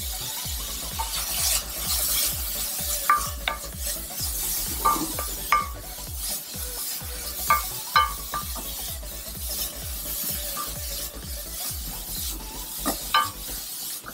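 Vegetables including grated carrot are stirred and sautéed in a pan for egg kothu chapati, a soft sizzle under rhythmic, repeated spatula scrapes and taps, close and steady with no voices.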